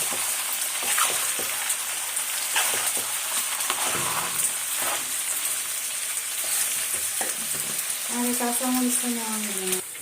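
Desi chicken frying in a pan with a dense, constant sizzle like heavy rain, broken by scattered scrapes of stirring, close and loud throughout, with a brief tonal voice-like sound near the end.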